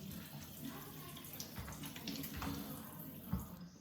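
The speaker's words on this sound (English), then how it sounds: "So I'm just going to quickly wash my hands, get rid of the oil." Running tap water splashes over hands being rinsed of oil at a kitchen sink, a steady close wash with small bursts of splashing and no talk.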